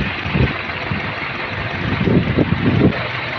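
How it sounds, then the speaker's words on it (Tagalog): A car's auxiliary fan runs strongly, giving off a steady, close whooshing roar with a faint underlying hum. The sound is continuous and carries no talk. "Lakas ang auxiliary fan."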